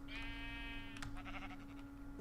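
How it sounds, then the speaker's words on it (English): Minecraft sheep in the SevTech modpack gives a single loud, wavering bleat near the start, followed by game clatter over a constant low background hum. "There's a sheep up here. I know it. I can hear it."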